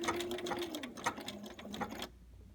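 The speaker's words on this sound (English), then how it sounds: "I'll take one more stitch and needle down on the outside edge." A sewing machine runs rapid stitches on applique for about two seconds, a quick even hum of needle strokes close by, then stops abruptly into quiet.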